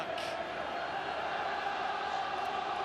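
Rugby league crowd at Craven Park roars with a broad, sustained swell of cheering from a distant stand, steady throughout.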